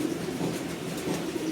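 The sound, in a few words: racing pigeon in a loft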